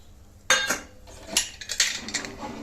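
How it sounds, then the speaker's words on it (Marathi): Soaked chickpeas tipped into a pressure cooker, a string of close metallic clinks and knocks against the pot, several quick hits spread over a couple of seconds, with no talking. "आता हे आपले चणे आहेत ना, हे कुकर मध्ये टाकून घ्यायचे आहेत"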